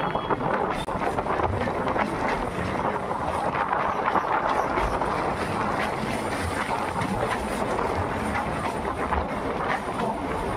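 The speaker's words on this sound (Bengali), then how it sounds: "হুগলি ব্রিজের ওপর দিয়ে কিন্তু আমাদের ট্রেন ছুটে চলেছে" A local train between Naihati and Bandel crossing the Hooghly bridge, heard from on board as a steady loud rumble and rattle of wheels with wind rushing past, unbroken throughout.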